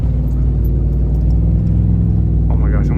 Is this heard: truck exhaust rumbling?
yes